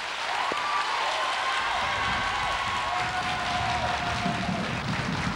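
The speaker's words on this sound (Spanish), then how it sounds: "eu pediríalles un aplauso de ánimo para todos eles" A television studio audience applauds steadily in a continuous wash of clapping, with a faint tone running faintly through it.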